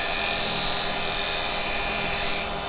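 A carbide chisel cutting into spinning wood on a lathe gives a steady, loud, bright scraping whir that holds constant and unbroken, with no talk over it.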